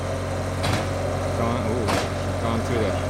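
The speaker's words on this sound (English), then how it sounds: "Here we are drilling away over here." A geothermal borehole drilling rig bores down through clay with a steady, loud mechanical drone and engine hum. The noise is close and continuous, with brief surges of harsher grinding.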